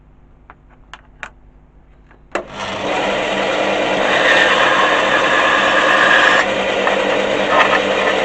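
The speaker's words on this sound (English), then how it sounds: "it's over to the bandsaw and let's get these cut" A bandsaw cuts walnut and osage orange pen blanks in a woodturning shop: a few light clicks and taps, then the saw starts up into a loud, steady high whine as the blade cuts, continuing for several seconds.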